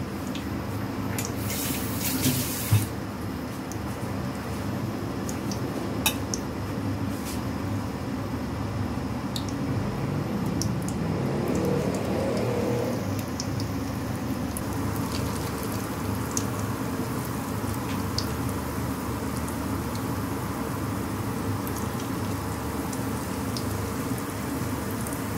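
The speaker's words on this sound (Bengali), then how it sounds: "এইভাবে আমি সবগুলি পাকোড়াকে একে একে ভেজে নিব" Bitter gourd pakoras frying in a pan of hot oil, a steady close sizzle and crackle with scattered pops running throughout, with no voices.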